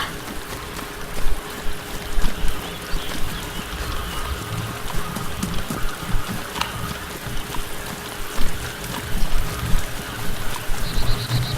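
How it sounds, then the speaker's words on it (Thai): Steady rain falls in the survival video game DayZ, a dense broadband wash with scattered droplet ticks and a low rumble running throughout at moderate loudness. "ฝนตกนะ"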